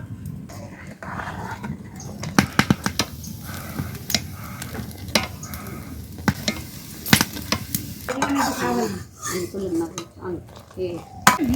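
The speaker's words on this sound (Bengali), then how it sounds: "আমি দুধের উপর এখন চিনি দিয়ে দিচ্ছি।" A ladle stirs milk with sugar as it boils down in a pot for chhanar payesh. Repeated scraping and clinking against the metal sound close and irregular over a soft bubbling sizzle.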